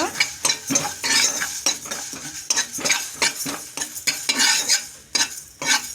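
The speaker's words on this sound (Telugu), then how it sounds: "మెంతులు వీటిని అనేది కొద్దిగా ఫ్రై చేసుకోవాలి ఇలా అయితే మనం కలుపుతూ ఉండాలన్నమాట" Mustard and fenugreek seeds fry in a pan for a Telugu ginger pickle while a spoon stirs them, giving repeated close scraping strokes over a light sizzle, with no talking.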